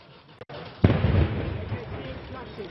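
Gunshots during a police assault on a hostage-taking site, a sharp loud bang followed by a rumbling echoing burst, with a smaller crack just before, heard from a distance amid voices.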